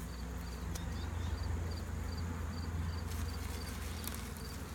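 Honey bees, a mix of Italian and Carniolan types, buzzing around an opened beehive, a steady dense drone close by, with faint chirping in the background.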